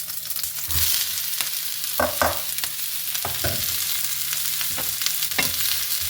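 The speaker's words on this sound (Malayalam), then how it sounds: "ഇതൊന്ന് ചെറുതായിട്ട് വഴറ്റിയെടുക്കാം" Sliced onion, green chili, ginger and garlic sautéing in oil in a pan for a dark beef fry, a constant crackling sizzle with a few scattered spatula knocks and scrapes, no talk.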